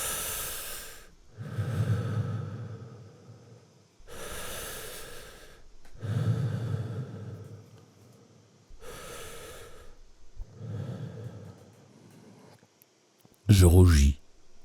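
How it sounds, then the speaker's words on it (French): Slow, deliberate breaths in and out during a calming anxiety exercise, several long audible inhales and exhales separated by short pauses, ending with a brief sharp sound. "Et on respire encore 3 fois."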